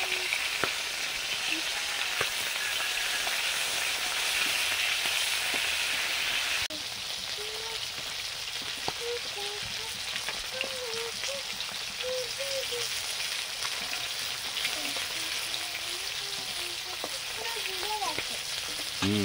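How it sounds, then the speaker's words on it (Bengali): A steady, crackling sizzle of a catla fish head frying in hot oil continues throughout, with occasional scraping and clinks from stirring. "মাথাটা এই যে ভাজা হচ্ছে, আমি একটু নেড়ে দিচ্ছি।"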